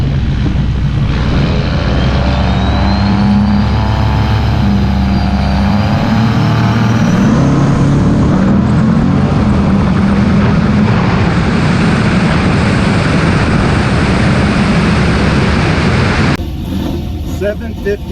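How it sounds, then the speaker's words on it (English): A diesel Dodge pickup truck makes a drag racing run at a dragway in Roswell, New Mexico, its loud engine roar steady and close for most of the run, with a crowd or announcer murmur underneath, before cutting off near the end. "Mike Turner coming up again against the Diesel Dodge pickup truck right-hand side."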